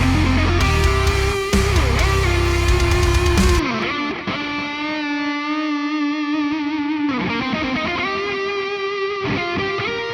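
Distorted metal electric guitar lead through a neural amp modeler, with sustained, bending notes and heavy saturation, playing over a driving backing that drops out partway through.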